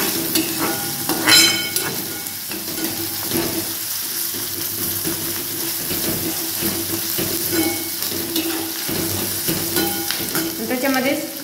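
Chopped onions frying in a pan for upma give off a steady, close sizzle, broken by the scrape and clatter of a spoon stirring them, with no one talking.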